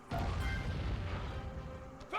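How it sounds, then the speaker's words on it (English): Thunder cannons firing in the video game Sly 3: a muffled, rumbling boom that rolls on for about two seconds, fairly faint and heard alone. "Thunder cannons!"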